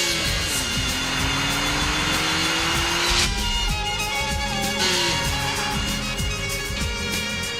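A Nissan GT-R in a Japanese TV commercial roars loudly and continuously, its engine note rising and falling through gear changes with sweeping pitch shifts, set under music-like tonal layers and no talk.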